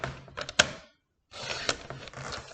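Sharp crunching cuts through a 19 by 9.5 cm paper card rectangle, split down the middle for a homemade greeting card: a few close snips and thuds, a brief pause, then more rustling cutting.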